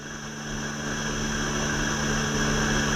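Steady whirring helicopter rotor and turbine drone in an RC helicopter flight simulator game, evenly sustained and gradually swelling slightly in loudness, with no voices.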